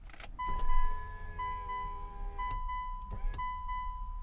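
Car power windows rolling down, a steady electric motor whine lasting several seconds with a few clicks and small knocks, heard close inside the car with no talking.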